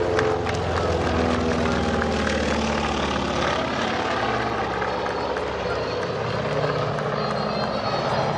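Propeller aircraft, a Grumman Albatross or DC-3, flying past at an air display at Biscarrosse, a loud steady engine drone filling the whole stretch with a commentator's voice over it.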